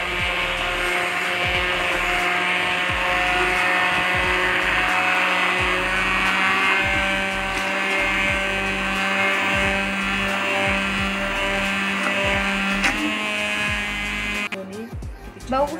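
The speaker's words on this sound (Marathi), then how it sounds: "आपल्याला अशा पद्धतीने ब्लेंड करून घ्यायचं आहे जसं व्हिडिओमध्ये दाखवलेलं आहे" An electric blender churning cream with cold water into butter, a loud, steady whirring motor drone close by that runs continuously before cutting off near the end.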